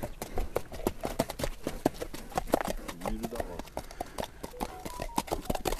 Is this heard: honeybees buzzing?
no